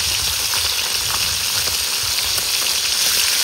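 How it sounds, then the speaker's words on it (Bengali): Fish frying in hot oil, cooked outdoors on a trip to a river in the Sundarbans: a loud, dense, continuous crackling sizzle like heavy rain, steady from start to finish with no talking. "মাছ ভাজা হয়ে গেছে"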